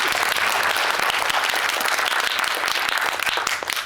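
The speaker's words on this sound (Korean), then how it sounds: "네, 큰 박수 부탁드리겠습니다." A cinema audience at a guest-visit screening event in a Megabox COEX theater gives loud, dense applause. It stays steady and sustained throughout, then eases slightly at the end.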